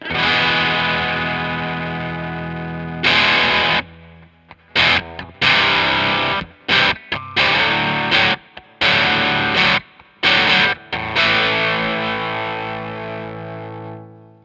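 Electric guitar played through a Catalinbread Karma Suture fuzz pedal, heavily distorted, loud sustained chords alternating with abrupt stops and short choppy stabs, ringing out alone with a thick, saturated tone.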